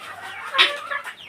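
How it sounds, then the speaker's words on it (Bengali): Young chickens, a cockerel chick and a hen chick, on a small home farm give a short burst of soft clucking and peeping calls, close by and fairly quiet. "মোরগের বাচ্চা আর একটা মুরগির বাচ্চা।"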